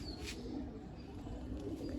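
Pigeons coo steadily and low in a close, continuous murmur at a home loft, with a faint higher chirp near the start.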